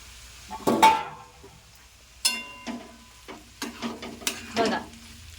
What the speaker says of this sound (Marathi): ही शाबूस तांदळाची मस्तपैकी ती पण परतून घ्यायची आहे.